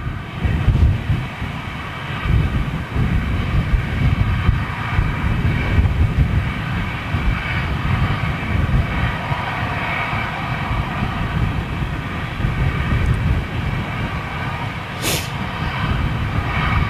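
An Embraer jet at Manchester Airport gives a continuous, loud engine roar that holds steady throughout with little change in level.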